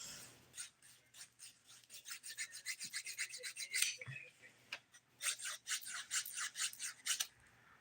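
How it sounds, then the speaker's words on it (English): A nail file rasps across fingernails in quick, even back-and-forth strokes, soft and close, with a pause midway before the steady filing resumes. "definitely a lot of filing compared to especially yesterday's Manny"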